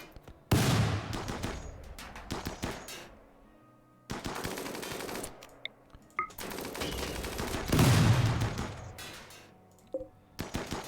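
Bursts of rapid gunfire from colonists in the Factioncide video game, three loud volleys of rattling shots separated by brief pauses, with scattered single cracks between them.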